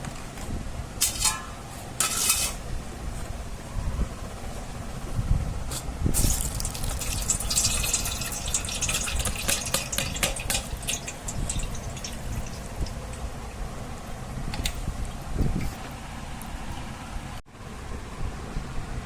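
Soaked sago being strained, water gushing and trickling steadily through a strainer with intermittent splashes and drips, close and fairly quiet, no speech.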